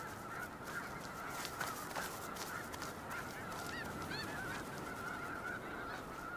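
Geese honk repeatedly at close range, giving harsh, excited calls in a rapid series over a constant rough background noise.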